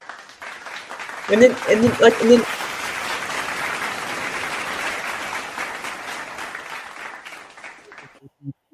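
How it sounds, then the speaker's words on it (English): An audience gives a round of applause at a panel discussion on college athletics and revenue sharing, a sustained clapping wash that swells and fades after a brief spoken phrase, with voices talking over it. "The audience was giving you a round of applause."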